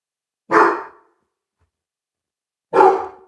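A big dog barks twice indoors, two loud, close single woofs about two seconds apart with silence between.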